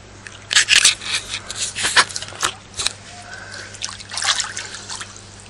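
A child swims and splashes in water nearby, making irregular close splashes, drips and sloshing bursts in uneven rhythm, with no speech.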